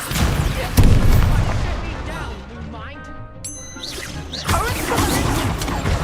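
Spell-combat effects in Hogwarts Legacy, with fire and levitation spells cast in a duel: loud crashing blasts, booms and chiming impacts, one heavy hit near the start, mixed with a character's voice.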